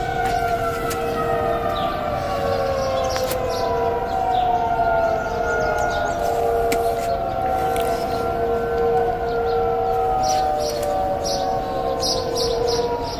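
Tornado siren wailing across a neighborhood by the woods, long rising and falling tones that overlap steadily from a distance, loud and continuous without speech.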